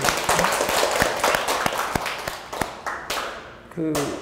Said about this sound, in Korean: 박수 한번 뜨겁게